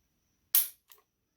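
A Ruger Max 9 pistol trigger, pulled with a trigger gauge, breaks with one sharp, close snap and then a faint softer click, with silence on either side.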